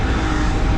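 A BMW E46 engine's loud, continuous roar holds at a high rev during drifting, droning steadily without pause for under a second.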